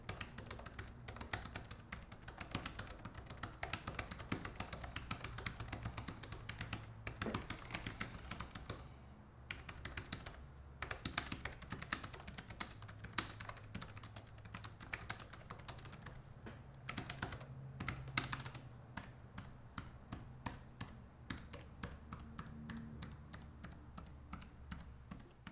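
Steady clicky typing on an ESR Rebound 360 keyboard case for iPad, quick irregular keystrokes running throughout at close range, fairly quiet, with no voices.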